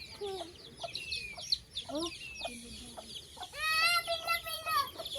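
A hen with her chicks and a rooster in a village yard: soft clucks and thin, rapid chick peeps that swell near the end, fairly quiet and close.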